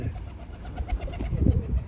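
Low, soft cooing from a pigeon close by, a few rolling coos over faint background noise.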